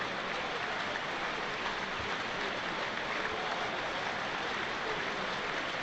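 A football crowd at a Sheffield United home match against Sunderland applauds steadily in tribute to a fan who has died, a dense, even roar of clapping from the stands that holds without a break.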